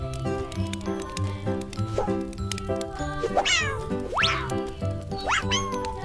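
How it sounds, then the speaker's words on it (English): A cat meows several times with rising, drawn-out calls over a bouncy children's alphabet tune with steady bass and percussion. "C for cat."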